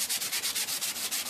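Aluminum foil dipped in flat, day-old Diet Coke scrubs rust off chrome, a close, steady back-and-forth rubbing with about eight quick strokes.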